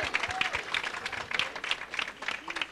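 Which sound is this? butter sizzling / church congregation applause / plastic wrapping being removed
church congregation applause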